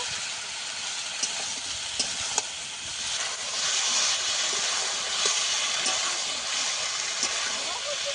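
Spices for a fish curry sauté in a hot pan with a steady, bright sizzling hiss, broken by occasional small pops and a scrape or two. A voice talks over the sizzle.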